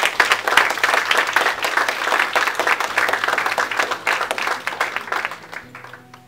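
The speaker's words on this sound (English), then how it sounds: "Could we have another round of applause for Sarah?" An audience at a community health ambassadors event gives a sustained round of applause, dense and fairly loud clapping throughout, tapering slightly at the end.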